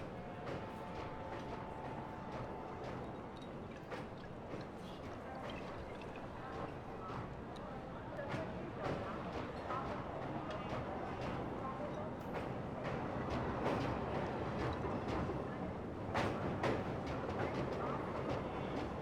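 A train bound for Lucknow pulls out in a continuous rumbling clatter of wheels and carriages, with faint voices now and then beneath it.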